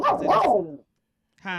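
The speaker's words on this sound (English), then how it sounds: "That was a dog." A dog barks in the background, a short burst of harsh barks followed by silence and then a higher tonal yelp, with a voice briefly reacting in between.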